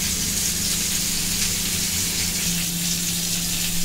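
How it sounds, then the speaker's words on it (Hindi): Chana dal being roasted in a hot kadhai over medium heat: a steady, close, dense sizzle with a faint low hum running underneath, even in loudness throughout and with no talk over it. "कढ़ाई गर्म हो गया है, हमको पहले चने की दाल भून के लेना है।"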